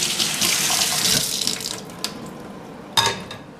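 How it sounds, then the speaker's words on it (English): Kitchen tap water runs over a strainer, a steady close rush that tapers off partway through, followed by a couple of small clinks and knocks. "Rinse the strainer."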